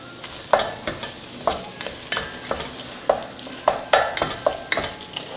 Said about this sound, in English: Go ahead and stir it into the rest of the vegetables.